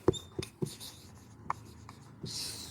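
Chalk or marker strokes on a classroom board while a maths problem about polynomials is worked out: a few short, sharp taps and scratches spaced apart, close and quiet, with no talking.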